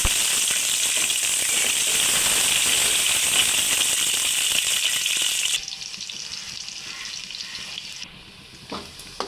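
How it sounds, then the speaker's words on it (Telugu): Onions and green chillies fry in hot oil for a Sunday fish curry, a loud continuous sizzle that drops abruptly quieter partway through, followed by faint clinks and stirring sounds. "ఉల్లిపాయ పచ్చిమిరపకాయలు వేసి ఫ్రై చేసుకుంటాం."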